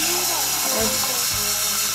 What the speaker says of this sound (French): Moi je prends l'eau du robinet